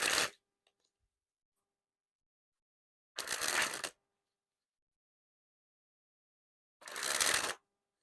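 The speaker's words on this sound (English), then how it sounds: "we'll spring the cards." A deck of crushed-stock playing cards is sprung from hand to hand three times, each a brief, close, fluttering burst of riffling cards separated by silence.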